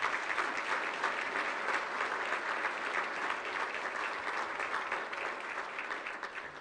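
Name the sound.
audience applause for council members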